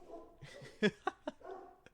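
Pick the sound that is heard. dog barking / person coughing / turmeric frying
dog barking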